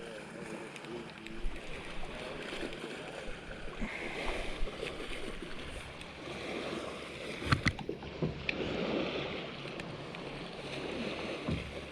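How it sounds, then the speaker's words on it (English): A bass boat passes at moderate distance, its engine hum blending with water churning and wind over a steady outdoor background. "Dadgum bass boats."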